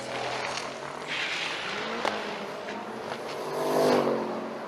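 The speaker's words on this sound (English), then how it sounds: "Gear jamming fun over there for Huizenga" Turbocharged Jeep Cherokee drag racing at Drag Week, a fairly faint, distant engine run with rising revs and a few gear changes against crowd and track ambience.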